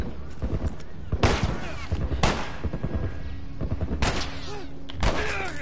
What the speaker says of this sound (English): there's a guy shooting us in the back